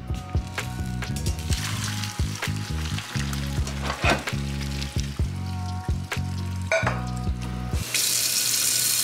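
Boiled pasta water poured off into a kitchen sink, heard as a sudden loud rush of splashing water near the end, after a stretch of rhythmic background music and kitchen clatter.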